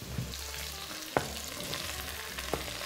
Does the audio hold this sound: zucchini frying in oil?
yes